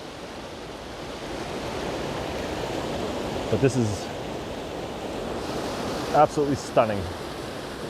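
Hull Creek Falls in Pennsylvania gives a steady, loud rushing roar of water pouring over a dammed ledge. Someone talks briefly over the constant hiss, with some wind buffeting the microphone.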